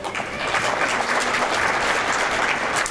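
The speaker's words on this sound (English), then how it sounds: "You can clap." Steady, dense applause from a seated crowd at a young authors' award ceremony, even and sustained throughout with no voices on top.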